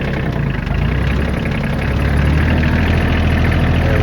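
A Kioti CK27 compact tractor engine runs in second gear, a loud, close, steady diesel drone with a constant low throb and no voices.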